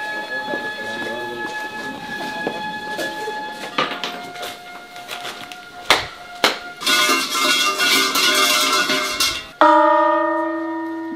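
A bell at a Japanese shrine rings out, and its tone hangs and decays after a few sharp clanks and strikes near the end, following a stretch of ambient bustle and tonal hum.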